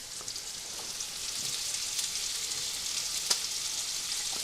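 Browned orzo and rice for a homemade Rice-a-Roni-style dish sizzle steadily in a pan on an off-grid cooking setup, a soft continuous frying crackle with occasional sharper pops and no talk.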